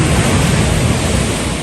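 Sea waves wash against the shore by an outdoor seaside meal at a glamping village, a loud, broad, steady roar with wind buffeting the microphone, no voices heard.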